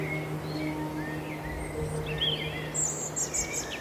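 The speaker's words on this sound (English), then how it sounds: "You can hear the birds singing." Several birds call and chirp at moderate distance in woodland over a steady background hum, with short whistled phrases scattered throughout and a brighter trill near the end.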